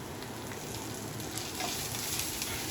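Curry leaves, pepper and cumin sizzle in a pan for rasam, making a soft, even, continuous crackle with no other sounds.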